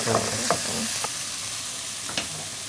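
Soft sizzling of onions and tomatoes frying in a pan with a few scraping stirs, quiet and close, no talking.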